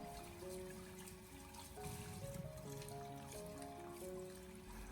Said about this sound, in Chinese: 我们用流动的自来水给它反复的清洗一下